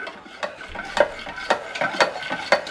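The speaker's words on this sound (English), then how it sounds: "And just going to mix that in." Molasses is being mixed into bulla cake batter, giving quick rhythmic strokes of a utensil scraping and slapping around a bowl, roughly twice a second, close by with no talking.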